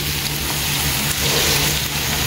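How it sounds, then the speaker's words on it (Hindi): Onions frying in a pan for pav bhaji make a loud, steady, close sizzle with a dense hiss that never lets up. "तर म्हाजे कांदे न्ही हांव मातशें बरें फ्राय करून दिता"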